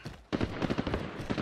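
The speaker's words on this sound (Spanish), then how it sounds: "Ametralladora ligera." Light machine gun firing in Call of Duty Warzone, a rapid burst of close, loud rounds after a brief pause.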